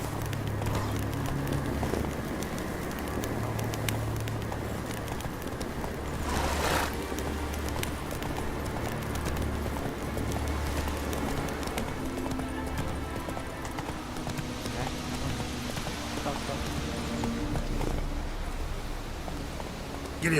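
Roach the horse galloping in The Witcher 3: Wild Hunt, with steady rhythmic hoofbeats pounding continuously and fairly close, over rain-like ambient game noise and an occasional brief voice.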